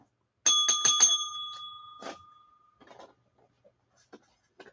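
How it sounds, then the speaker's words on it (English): A small hand bell is struck several times in quick succession at a live-streamed record auction, clear and close, then rung once more before it fades into near silence with a few faint taps. "And I remembered the bell this time."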